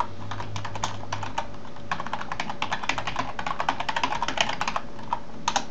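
Someone types on a computer keyboard close to the mic, with a brief burst and then a longer stretch of quick, irregular key clicks over a low room hum.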